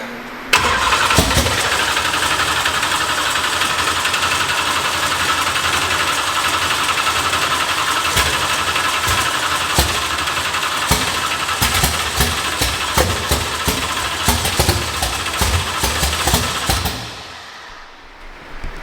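A drift car with no exhaust fitted cranks and fires, then idles loudly and raggedly for about sixteen seconds with sharp, popping bursts before cutting out abruptly.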